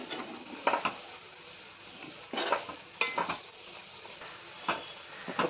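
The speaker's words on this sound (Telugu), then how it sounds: "ధనియాల పొడి అలాగే గరం మసాలా ఒకసారి అన్నీ వేసాం కదా కలుపుకుందాం" Spiced mutton liver fry being stirred in a pan after coriander powder and garam masala go in, with a spoon scraping and clinking against the pan in a few irregular bursts over a soft sizzle.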